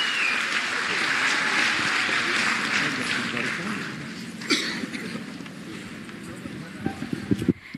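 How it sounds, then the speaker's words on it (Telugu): Crowd applause and cheering at a women's event in an office, welcoming a minister to the stage, a broad continuous clatter of clapping that thins out midway, with louder scattered claps and voices toward the end. "మీ అందరి గట్టి హర్షధ్వానాలతో చప్పట్లతో మేడం గారిని ఆహ్వానిస్తున్నాం."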